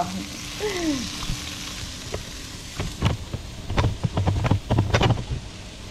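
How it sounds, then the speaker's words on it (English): Beans fry in a pan, giving a steady sizzle with scattered pops and crackles and some stirring scrapes that grow busier toward the end, with no talking. "I'm just gonna let the beans cook a bit"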